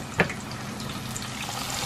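A second batch of chicken feet for dim sum frying in hot oil, a steady close sizzle with one brief pop near the start and no voices.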